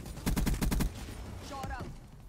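A KN-44 rifle fires in a first-person shooter game, letting out a quick burst of about six loud, close shots in rapid succession, followed by quieter game sounds and a brief voice.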